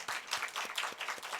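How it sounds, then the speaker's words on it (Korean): A church congregation applauding to give glory to God during a sermon, many hands clapping together in a full, steady patter with a few louder individual claps. "참 진짜 우리 하나님께 영광의 박수 한번 돌려야 됩니다."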